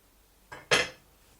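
A metal ladle scrapes and clinks against a pot as thick venison stew is dished up, two quick close knocks in a quiet kitchen.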